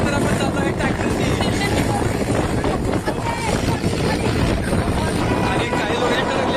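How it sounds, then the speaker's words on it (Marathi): A tractor engine roars steadily and loudly throughout a ride through a village, mixed with heavy wind buffeting against the microphone. "तर आपण जातो आहे ट्रॅक्टरनी"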